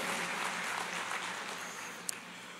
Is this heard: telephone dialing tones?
no